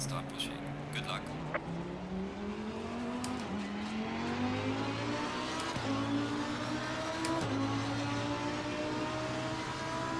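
A Lamborghini Huracan Super Trofeo race car engine in Assetto Corsa Competizione drones steadily, pitch stepping up and down through gear changes, with someone talking over it throughout.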